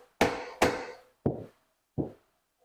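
Four sharp taps land on a banjolele fret to seat a high spot, crisp and close, two quick hits followed by two slightly softer, more spaced knocks with silence between.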